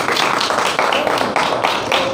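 An audience in a church gathering applauds brother Amjad with loud, dense, continuous clapping that fills the whole moment.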